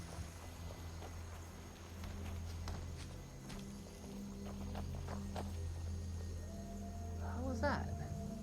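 Horse hooves clip-clop at a walking pace in the video game Skyrim VR, a steady run of soft, evenly spaced steps over a low droning game soundscape, with talk running alongside.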